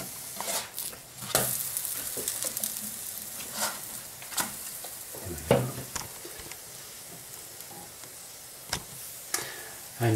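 Pancake batter fries in a pan over a lowered gas flame, a soft steady sizzle punctuated by scattered clicks and scraping knocks of a utensil.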